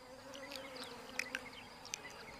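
A tiny Ropalidia wasp, under half an inch long, gives a thin high buzzing drone in a quiet natural setting, with a few brief sharper chirps and ticks over a low steady hum.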